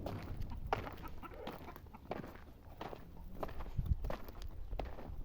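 Chickens cluck and shuffle about on a farm in Saudi Arabia, soft intermittent clucks mixed with scratching and footstep-like rustles, fairly faint and close.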